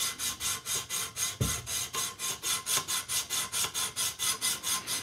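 A WWII pilot knife being restored on a TSPROF Pioneer sharpener, the abrasive stone rasping along the steel in steady, evenly spaced strokes, roughly four per second, close and fairly loud with no talking.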